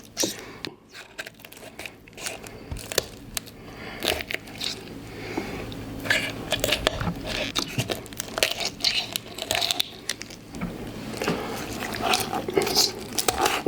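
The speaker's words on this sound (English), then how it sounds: "we're going to take the backbone out of this chicken and we're going to spatchcock it" Kitchen scissors snipping through a raw chicken's backbone to spatchcock it for smoking, irregular crunching cuts and crackling bone snaps close by, with rustling and brief handling noises between.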